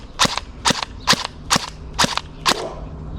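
A Novritsch SSE18 airsoft electric gun firing six sharp, evenly spaced shots, loud and close with no talk.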